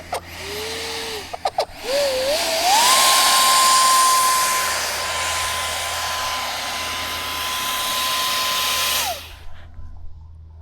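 A small electric ducted fan motor on a DIY boat whines up to a high, steady pitch and holds loudly for several seconds, then winds down, with a few clicks before starting.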